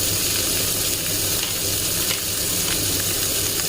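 Onion frying in a hot pan: a steady, dense, bright sizzle crackling continuously at close range, loud and even, with no voices over it.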